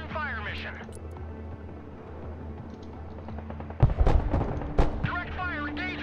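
MLRS rocket artillery fires in the Broken Arrow war game: a couple of sharp, booming launch blasts rip out near the middle and a second later. Players talk before and after the shots.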